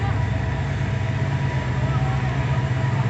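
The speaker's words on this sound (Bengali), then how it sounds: "চট্টগ্রাম থেকে ছেড়ে আসা ঢাকা অভিমুখী আন্তনগর মহানগর" The intercity Mohanagar express, headed from Chittagong to Dhaka with Chinese coaches behind locomotive 3008, rumbles at Comilla railway station with a loud, steady low drone of engine and wheels up close, under faint surrounding voices.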